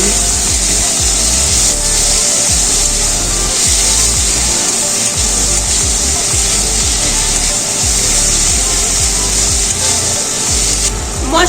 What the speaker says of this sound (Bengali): এবার একটু নেড়ে চেড়ে নিচ্ছি মশলাটাকে ভালো করে কষিয়ে নিচ্ছি